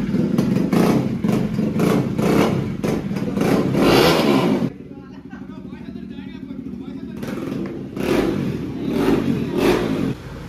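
A fully modified KTM Duke 390 revs hard indoors at an unveiling, loud and close, its roar dropping to a lower rumble for a few seconds before surging back up.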